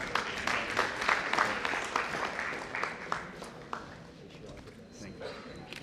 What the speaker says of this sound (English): A big clap for them.